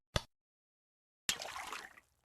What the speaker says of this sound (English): Pour the water into the stock pot.